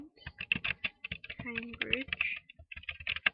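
Someone types a name into a Google search on a computer keyboard, producing rapid, close key clicks in short irregular bursts with brief pauses between them.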